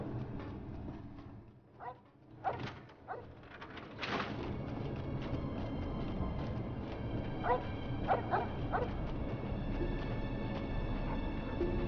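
A dog barking in the Fallout game Tale of Two Wastelands, several separate sharp barks and yips over low ambient hum, nearby and moderately loud, with bird-like chirps mixed in.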